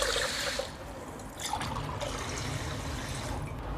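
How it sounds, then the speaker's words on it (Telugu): Water is poured into a pot of washed rice for temple pulihora, a close, continuous splashing and gurgling stream that stays steady throughout. "2 గ్లాసుల బియ్యానికి 4 గ్లాసుల వాటర్ వేసుకోవాలి"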